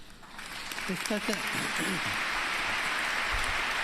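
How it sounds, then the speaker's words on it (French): Renewed applause from a large crowd in Koekelberg Basilica in Belgium, during the pope's address: a dense, sustained, rain-like wash of clapping, with a voice speaking briefly at the start. "Nouveaux applaudissements, notamment des bourgmestres des communes proches de la basilique"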